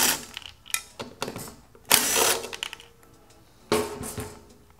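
A tool works loose 10 millimeter nuts on the tail of a 2016+ Yamaha XSR motorcycle in several short, close, clattering bursts separated by brief pauses.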